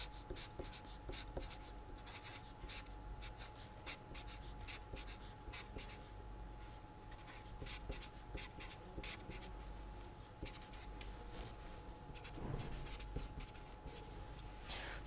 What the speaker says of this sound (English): So, this particular figure I will quickly draw again.